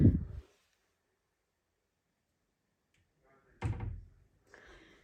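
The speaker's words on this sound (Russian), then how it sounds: "Сама закрывается дверь." A self-closing kitchen cabinet door shuts with a soft thunk, then a quiet pause follows, and a second muffled knock is trailed by faint rustling. A voice is heard briefly.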